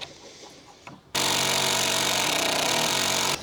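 Power drill drives a screw into a wooden headboard frame, a loud continuous whirring burst starting suddenly after a quiet moment and running steadily to the end.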